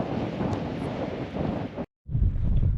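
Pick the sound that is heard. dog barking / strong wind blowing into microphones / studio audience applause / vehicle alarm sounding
strong wind blowing into microphones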